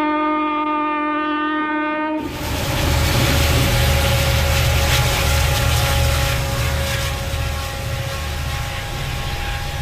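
An N-scale model Clinchfield Railroad layout begins with a steady tonal horn-like hum, then switches abruptly to a loud, continuous rumble of trains running, with no talking.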